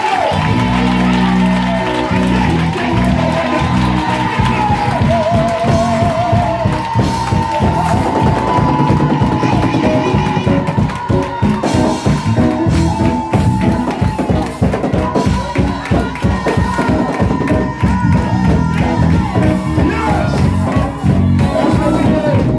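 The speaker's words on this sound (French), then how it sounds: "Est-ce que tu peux faire l'acclamation?" A church congregation cheers, shouts and claps in a loud, dense continuous roar, with voices mixed in throughout.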